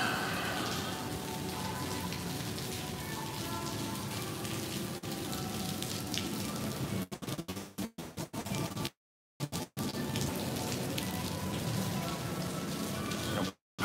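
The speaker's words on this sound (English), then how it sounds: "It's been raining for like a week straight" Steady rain falls after a week of downpour, a continuous dense hiss of drops on surfaces, broken near the end by brief dropouts and abrupt silences.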